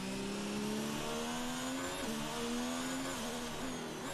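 The engine of a Formula 1 race car in the F1 2019 video game on the Hungary circuit gives a steady high-pitched whine held near constant. It dips briefly with gear shifts and runs alone without talk.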